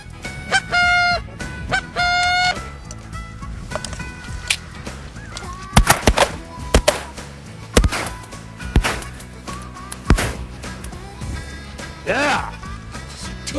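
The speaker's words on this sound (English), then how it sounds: "There's more birds coming." Blue geese honking overhead during a goose hunt in Manitoba, repeated bursts of nasal honks from a flock, punctuated by sharp loud shotgun blasts, with hunters talking in between.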